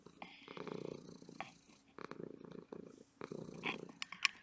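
A cat named Maggie purrs close up in a quiet indoor room, a soft rhythmic rumble rising and falling in repeated breaths, with a brief faint click near the end.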